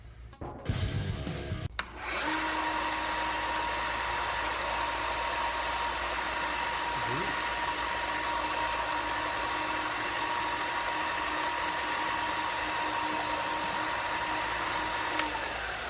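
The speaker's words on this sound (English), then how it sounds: "how this material shreds and how it reacts to the belt sander" A belt sander runs steadily against shirt fabric, a loud continuous motor whine and abrasive hiss that holds unbroken for about fourteen seconds after a brief start-up.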